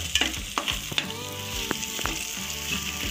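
Egg pieces frying in a pan for egg fried rice: a continuous close sizzle broken by sharp spatula clicks and scraping strokes, no talking.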